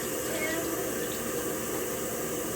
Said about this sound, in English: Rinse your hands well under clean, warm, running water.